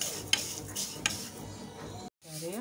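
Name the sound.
vermicelli being stirred and fried in oil for koshari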